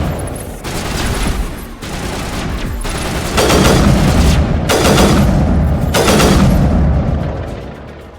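Loud, close rifle fire in Mass Effect Legendary Edition, delivered in several rapid sustained bursts separated by short gaps, with booming impacts that fill the space.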